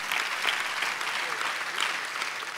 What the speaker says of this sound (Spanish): Denle un aplauso a la piedra, divina.